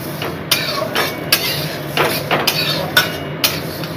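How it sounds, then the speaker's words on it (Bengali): Mung dal is stirred and fried in a hot wok, and a metal utensil scrapes and clanks against the pan in a regular rhythm of loud, close strokes over a continuous background hiss. "এখন আমি নেড়ে চেড়ে মুগ ডালটা ভাজবো"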